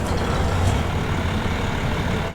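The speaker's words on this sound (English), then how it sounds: "And then we can hear the truck fire up." A Western Star 49X truck's diesel engine rumbles loud and close with a dense, steady low roar, heard alone with no talking.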